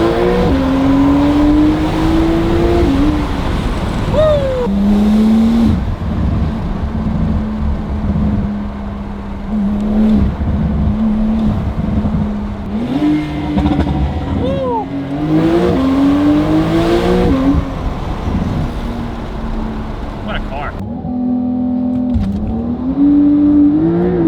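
A Porsche 911 992 Carrera 4S with titanium exhaust and free-flow downpipes roars loud and raspy through repeated hard accelerations and gear shifts, engine pitch climbing and dropping, with brief tire noise and occasional voices underneath.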